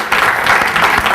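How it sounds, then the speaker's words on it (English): Audience clapping fills a talk-show studio, a dense steady burst of many hands close and loud, continuing without pause. "Clap for them. Clap for them."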